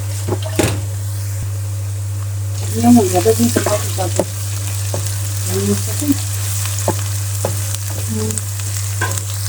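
Spices and green chillies fry in a pan for a potato, egg and capsicum curry, a steady sizzle under a low constant hum, with a sharp knock near the start and a busy stretch of stirring clatter.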